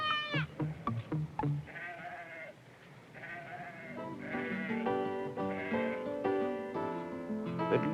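Sheep bleat repeatedly while a sheepdog herds the flock in New Zealand, several overlapping wavering calls at moderate distance, some nearer and louder, with no talking.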